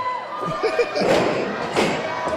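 An indie wrestling snapmare takedown at an Imperial Wrestling Entertainment show, with a body slamming onto the ring mat in a couple of heavy thuds over a noisy, cheering crowd and commentary voices.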